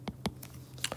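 A few quick keystrokes on a computer keyboard, faint and close, with soft irregular clicks over about a second and no talking.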